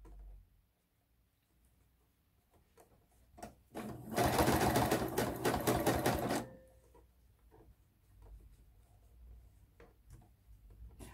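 A sewing machine stitches bias binding onto a garment neckline in one loud, rapid burst lasting about two seconds, with quiet handling noises before and after.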